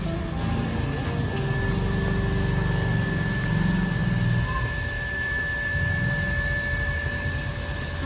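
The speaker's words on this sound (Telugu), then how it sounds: "మోటార్ వేసారు, సౌండ్ వస్తుంది." An electric motor switched on inside a home runs with a steady, unbroken hum and whir, carrying a few faint tonal whines throughout, with no voices over it.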